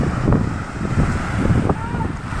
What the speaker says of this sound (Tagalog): Ito po yung bagyo na dulot ng Goring.